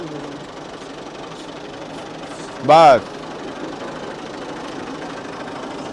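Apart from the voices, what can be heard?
tractor engine running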